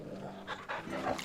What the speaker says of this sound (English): I'm just trying to pet my dog.